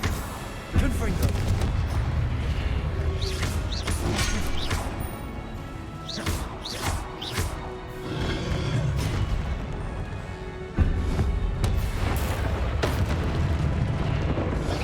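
Confringo blasting spells in Hogwarts Legacy set off repeated loud explosions and crashing impacts in a dense, continuous barrage. Booms and cracks overlap throughout, with a voice heard now and then.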